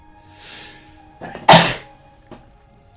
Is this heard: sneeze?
yes